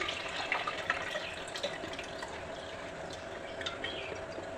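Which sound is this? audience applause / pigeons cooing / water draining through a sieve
water draining through a sieve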